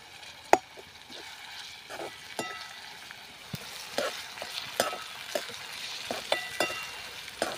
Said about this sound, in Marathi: आता टोमॅटो देखील आपण परतून घेऊया.